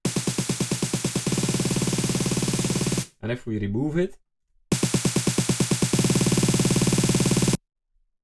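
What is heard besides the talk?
white noise added by vocoder on snare build-up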